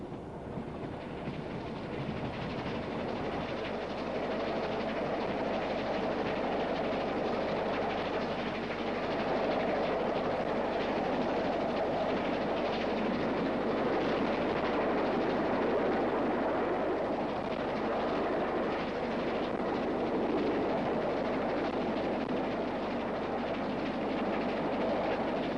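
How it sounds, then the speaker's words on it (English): A 1950s Great Western Railway express passenger train, booked to run at 100 mph on the Badminton route via Filton, Swindon and Reading to London, rumbles steadily at speed with a continuous roar and rhythmic wheel clatter, with no talking. "The train ran via Filton on the Badmington route through Swindon and Reading to London."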